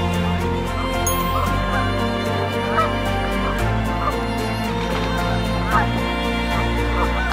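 A Ross's goose, among waterfowl along a shoreline, gives repeated honking calls over a steady busy background of other birds.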